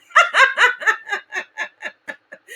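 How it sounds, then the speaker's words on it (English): A dog barks in a rapid series of about a dozen yips close by, starting loud and tapering off softer toward the end. "that sounds like my house. I thought it was my bell and my dog."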